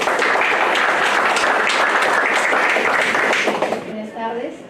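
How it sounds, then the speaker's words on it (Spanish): Applause from a labour-law conference audience rises as a dense, loud wash of clapping for about four seconds, then fades as a voice begins speaking. "Le brindamos un fuerte aplauso."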